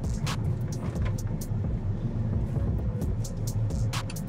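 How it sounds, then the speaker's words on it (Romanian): A Ferrari 296 GTB being driven, a steady low engine hum with faint road roar heard from inside the car, continuous and moderately quiet with no talking. "apeși pe un buton și mașina merge."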